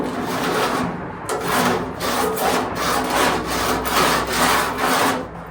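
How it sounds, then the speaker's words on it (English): Sandpaper rubbed over Bondo body filler on a VW Baja Bug panel, a steady rhythmic rasping of close back-and-forth strokes, roughly two per second, with no voices. "You want to take the whole panel in full and just let the sandpaper do the work."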